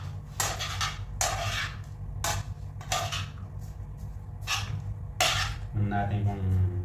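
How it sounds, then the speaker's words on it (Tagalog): Beef dinakdakan being stirred in a pan brings a series of loud metallic clanks and scrapes from a utensil against the pan in irregular bursts, with a voice talking briefly near the end. "Ito na, haluin natin."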